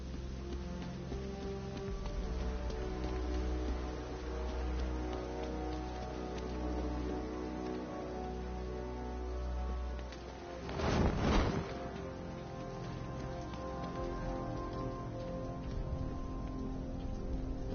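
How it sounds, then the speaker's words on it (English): Steady rain patters throughout a Batman: Arkham Knight game scene, a constant hiss of falling water with a brief louder whoosh near the middle. "What's with all the rain?"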